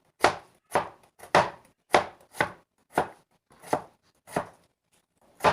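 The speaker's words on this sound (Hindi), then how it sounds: "अब हम 2 अदद आलू काट कर बैंगन में ऐड कर लेंगे।" A knife chopping potatoes on a cutting board for aloo baingan pakora, about ten crisp, evenly spaced chops close by with quiet gaps between them.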